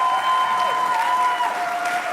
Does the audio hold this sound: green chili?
no